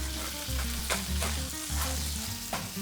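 Salmon fillet laid skin side down in a hot pan fries with a steady, close sizzle and crackle, punctuated by brief clinks and stirring sounds, with no talking.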